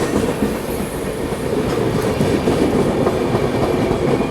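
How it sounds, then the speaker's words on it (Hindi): A Lucknow–Bhopal Garib Rath express passes alongside while overtaking another Garib Rath train, giving a steady, loud, close rumble of rolling wagons with a faint clickety-clack of wheels over the rails throughout. "एक गरीब रथ दूसरी गरीब रथ को ओवरटेक करते हुए।"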